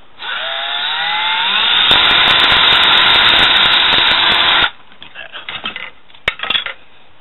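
A power drill bores a hole in a bucket for a fishing rod holder: a loud whine that rises in pitch and holds steady for about four seconds, then stops, followed by a few light clatters.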